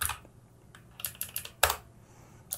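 Fingers type code on a computer keyboard, giving a quiet, close patter of plastic key clicks. The clicks come in a few quick clusters, with a lone tap at the start and another at the end.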